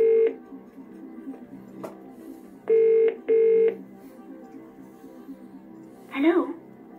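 Phone-a-friend dialing in the PS1 game Who Wants to Be a Millionaire: a short series of clear electronic dial tones, with two longer matching beeps in the middle, followed by a brief rising electronic chirp at the end.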